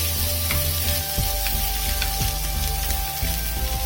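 Sooji being mixed and roasted in a hot pan gives a steady, loud, close sizzle with several soft scraping strokes of a spatula running through it.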